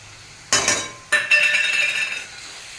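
Carrot halwa with dry fruits is stirred in a metal pan, two sharp clinks of the spoon against the pan followed by a short stretch of scraping and clattering, close and clear with no talking.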